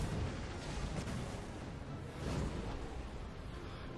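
Cannons fire during a Total War Warhammer 2 battle defending Lothern: deep, heavy booms, one early and another a little later, over a continuous loud rumble of battle noise.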